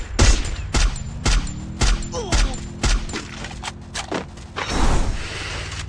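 Gunfire rattles through a Free Fire battle royale match: a rapid series of about a dozen sharp, loud shots in uneven bursts, with mechanical clatter between them.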